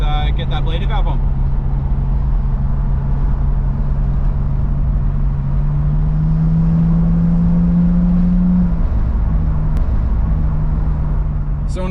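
A Nissan Skyline R34 sedan cruising, a low steady engine drone and road rumble from inside the cabin, with a pitch rise partway through and someone talking over it.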